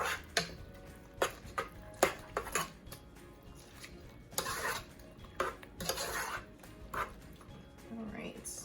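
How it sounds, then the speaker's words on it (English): A spoon stirs jerk tofu with allspice and bay leaves in a pot: irregular clinks and scrapes against the pot walls, moderately close, with bursts of louder stirring. "Let's give this a nice little stir."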